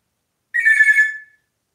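A parrot's voice imitating a telephone ringing: one short, bright, warbling electronic trill, close and clear, rising out of silence and fading quickly, with no talk around it.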